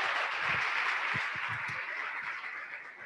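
An audience at a women's leadership panel event applauds in a steady, dense wash of clapping that fades slightly toward the end, with no one speaking.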